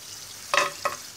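Homemade potato chips in hot oil: a low background sizzle broken by two brief bursts of bubbling and scraping as the slices are moved.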